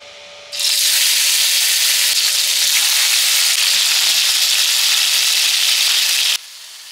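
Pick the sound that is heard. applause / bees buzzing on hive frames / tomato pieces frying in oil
tomato pieces frying in oil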